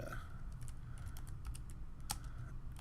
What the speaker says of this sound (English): I'm gonna type it out here real quick so that it's here